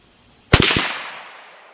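A single sharp report from a 350 Legend rifle on an outdoor range at 100 yards, one loud close crack followed by a long fading echo.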